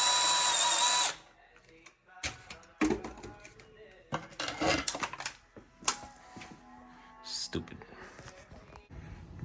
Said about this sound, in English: Take this screw out here.